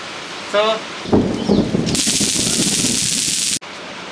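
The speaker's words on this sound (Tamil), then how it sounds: "மழை பெய்யுது ஆக்சுவலாக." Rain falling outdoors. After a few brief sounds and some speech, a loud, steady, dense hiss of rainfall sets in for about a second and a half, then cuts off abruptly.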